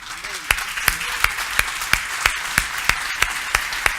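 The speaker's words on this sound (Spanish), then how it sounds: "Vamos a darle al Dios maravilloso, al Dios de pactos, al Dios de gloria, en esta mañana un aplauso de gratitud por la vida" A church congregation claps together, with steady, evenly spaced rhythmic claps standing out over a continuous wash of crowd applause, close and loud throughout.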